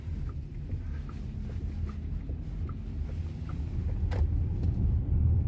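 A VW ID.4 electric car is driving in sport mode, heard from inside as a steady low road and motor rumble that builds slightly toward the end, with no talking.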